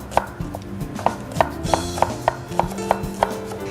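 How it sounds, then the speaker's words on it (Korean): A knife slices green onions diagonally into 0.5 cm pieces on a board for a Korean beef soup garnish, about ten crisp, evenly spaced chops over a faint tonal background. "고명으로 얹을 파를 좀 썰어볼게요"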